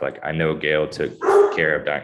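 A pet dog barks in short bursts at home after a doorbell rings, the yips and bow-wows mixed closely with a person talking over them.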